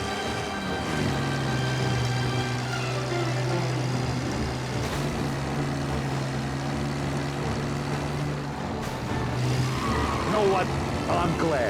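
Car driving in the Mafia: Definitive Edition video game, a steady engine drone that shifts pitch as it runs, loud and continuous under game music and voices.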